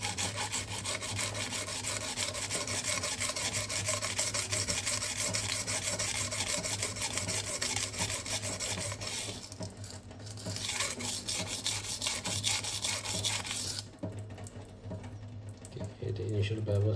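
A Giesser kitchen knife is worked across a dusty Gritomatic silicon carbide stone, giving a steady, continuous scraping rasp close up, with a low hum beneath and brief pauses near the end.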